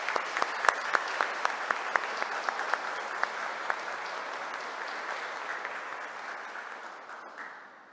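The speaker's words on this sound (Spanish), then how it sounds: "Vamos a darle un aplauso al Papa que nos ha convocado." Audience at a Holy Monday church retreat on synodality applauding for the Pope: steady, moderately distant clapping with a few sharp claps standing out early, fading gradually toward the end.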